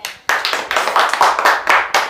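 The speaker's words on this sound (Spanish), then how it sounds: "Un aplauso a Dios." A church congregation claps together after a prayer of thanksgiving: a close, fairly loud run of quick, roughly rhythmic handclaps in bursts, with no talking over it.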